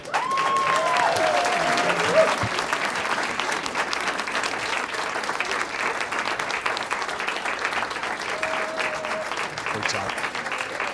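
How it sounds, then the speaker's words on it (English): A school board meeting audience claps steadily and continuously as students walk out, a dense and even applause that holds at the same level throughout, with a few faint voices underneath. "so let's keep clapping on the way out."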